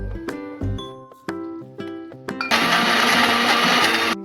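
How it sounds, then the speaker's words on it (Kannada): A kitchen mixer grinder full of coriander leaves, garlic, tamarind, cumin and cooked beans pulses in several short whirring bursts, then runs in a continuous loud grinding roar. "ಕೊತ್ತಂಬರಿ ಸೊಪ್ಪು, ಒಂದು 2 ಉಂಡೆ ಬೆಳ್ಳುಳ್ಳಿ, ಸ್ವಲ್ಪ ಹುಣಸೆ ಹಣ್ಣು, ಇದನ್ನು ಮಿಕ್ಸಿಗೆ ಹಾಕೊಳ್ತಾ ಇದ್ದೀನಿ."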